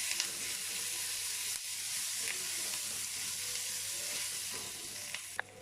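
Baby potatoes stir-fry in a pan with onions and curry leaves, giving a steady, even sizzle close by with a few faint utensil clicks and no speech.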